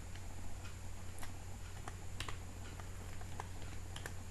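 Steady keystrokes on a computer keyboard while a data entry profile is being written, with scattered clicks over a constant low hum, no voices.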